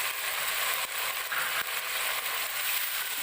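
Ginger, garlic and cumin paste cooking with chopped tomato in a pan, giving off a steady, even hiss of frying with a few faint clicks and no talking.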